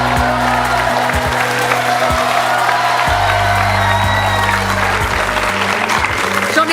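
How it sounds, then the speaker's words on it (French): Studio audience applause welcoming a TV host, a loud dense roar of clapping with scattered cheers and whoops, steady throughout over low background music. "Je vous demande d'applaudir et d'accueillir très chaleureusement Evelyne Leclerc."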